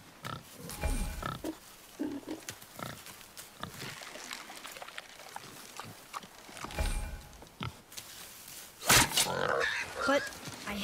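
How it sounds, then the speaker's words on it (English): A wild boar in the God of War video game grunts and snorts in short bursts, with footsteps and rustling between them and voices talking over it. "Wild boar's hide is thick."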